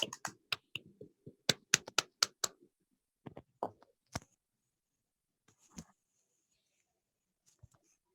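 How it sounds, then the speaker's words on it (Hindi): Webinar participants clap to welcome a speaker, heard as a scattered run of sharp claps that thins out into a few isolated taps and then silence. "अपने म्यूट ही या अनम्यूट हटा के सर के लिए जोरदार ताली से स्वागत करें"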